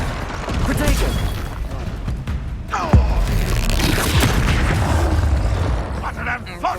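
Confringo explosion spell in Hogwarts Legacy, a sharp blast about midway amid continuous booming, crashing combat noise and a voice.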